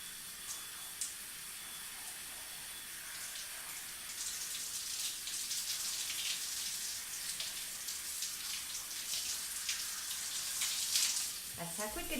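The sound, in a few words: water running while rinsing hair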